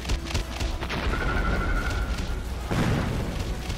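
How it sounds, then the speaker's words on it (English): Godzilla-style atomic breath fired in the kaiju fighting game Kaiju Online: a sustained synthetic beam tone that ends in a heavy booming impact, loud and close with no talk over it. "I did not mean to do atomic breath"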